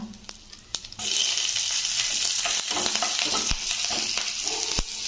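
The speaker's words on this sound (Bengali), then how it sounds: "এবার তেলে দিয়ে দেব জিরে ফোড়ন" Cumin seeds and chilies hit hot oil left from frying shing (stinging catfish), bursting into a loud, sustained sizzle after a few soft clicks, with crackles and occasional sharp pops.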